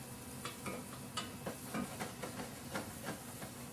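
A pan of food cooks gently over low heat with rosemary, giving a soft, quiet sizzle broken by repeated light scrapes and stirs at a fairly even rhythm, with no talking.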